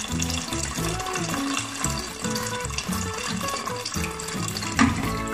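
Water pours steadily into a cooking pot of corned beef sopas, a continuous splashing, gurgling stream heard up close with no talking.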